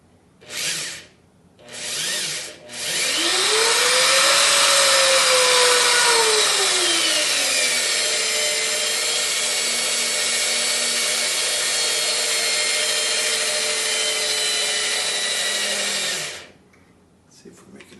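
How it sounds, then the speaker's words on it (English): A power drill runs in reverse with a left-handed bit, drilling out a broken screw in an antique wooden carpenter's tool box. Two short bursts come first, then one loud, steady whine that lasts about thirteen seconds before stopping. "So we got the drill running backwards."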